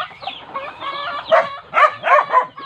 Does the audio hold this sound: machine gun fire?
no